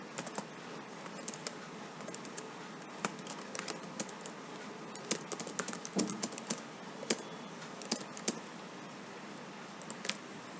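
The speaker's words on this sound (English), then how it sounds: "Let's type a serial number." Keys clatter on a computer keyboard as someone types numbers into an Excel spreadsheet. Irregular, close, soft key clicks continue throughout, and no one speaks.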